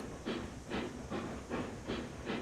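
A train running on rails in the Railroads Online video game, with a rhythmic series of hissing, chuffing bursts repeating about every half second at moderate, fairly quiet level.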